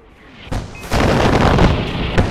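An explosion in the video game Far Cry 4 bursts out with a sharp boom, then swells into a loud, sustained rumbling roar that carries to the end, with another hit near the close.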